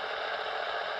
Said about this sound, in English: So we got the compressor